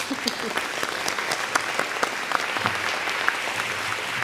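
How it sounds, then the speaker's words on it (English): Enthusiastic audience applause at a teacher of the year ceremony following a school choir performance, a dense, sustained burst of many hands with a few sharp claps and some crowd voices mixed in. "Let's give them another round of applause"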